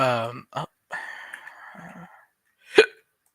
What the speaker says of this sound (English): Hiccups are bad.